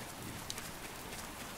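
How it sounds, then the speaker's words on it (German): Steady, soft hiss of video game rain falling continuously, faint and even, with no voices. "Komm schnell zum Auto, es regnet."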